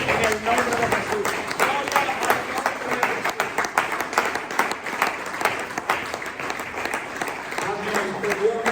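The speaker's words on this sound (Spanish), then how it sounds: "Denle un aplauso al Señor Jesucristo" A church congregation claps loudly and continuously in dense, sustained applause, with voices mixed in the crowd noise throughout.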